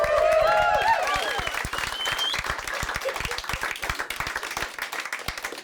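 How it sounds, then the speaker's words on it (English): Stand-up comedy audience claps and applauds at a live special, a loud dense burst of clapping that starts strong and continues steadily, with some crowd voices mixed in early. "I bow and you clap."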